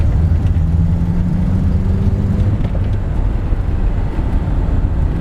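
Peugeot 205 CTI engine humming steadily while driving at low speed, a constant low rumble with faint whirring, close and unbroken throughout.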